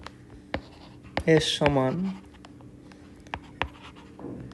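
Pen writing out the working for a Class 9 math problem on domain and range of a relation, with a few sharp scratchy strokes scattered through a short stretch of speech.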